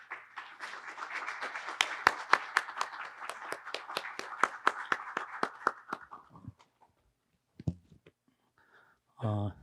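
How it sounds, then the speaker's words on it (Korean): Audience at the opening ceremony of a maritime strategy seminar applauds a speaker's arrival, steady moderate clapping for about six seconds that tapers off into a few scattered claps and a brief voice at the end. "오늘 축사를 위해서 방문을 해주신 안병길 의원님을 큰 박수로 모시겠습니다."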